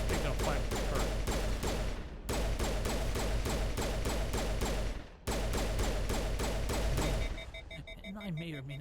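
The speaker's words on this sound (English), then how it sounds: "Is that the turret shooting at us?" Rapid, sustained turret gunfire in Mass Effect, loud, dense repeating shots in long bursts broken by two brief pauses, fading at the end as a voice speaks over it.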